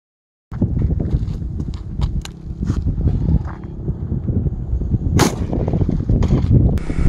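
A .500 Smith & Wesson Magnum fires into ballistic gel with a sudden loud report, followed by several seconds of rumbling, clattering aftermath and sharp impacts.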